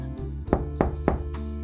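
Knocking on a door: three or four firm raps at a steady pace, close and clear over a low steady background drone.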